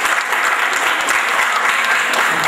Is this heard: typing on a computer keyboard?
no